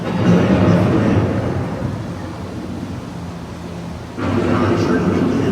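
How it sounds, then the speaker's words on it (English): Thunder from an approaching thunderstorm rolls as a loud, sustained low rumble that eases off midway and then swells again with a sudden heavy surge near the end. "The approaching storm may seem violent and destructive to us"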